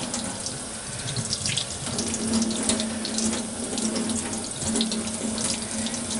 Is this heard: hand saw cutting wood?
no